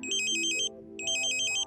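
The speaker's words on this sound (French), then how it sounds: "Vous entendez une nouvelle fois la tonalité d'ambulance." Two bursts of rapid, high electronic warbling tones from a KA-SAT satellite modem, close and clear, with a short gap between them, like a siren-style alert beep.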